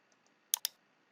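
Two quick, sharp computer mouse clicks close to the microphone, with a couple of fainter taps just before them, in an otherwise quiet room.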